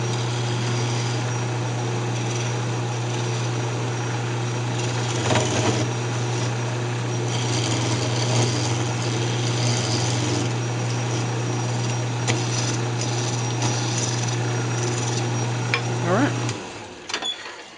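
A wood lathe spins a cocobolo duck call mouthpiece with a steady, loud motor hum throughout, while a tool scrapes and cuts in short bursts, ending as the lathe winds down.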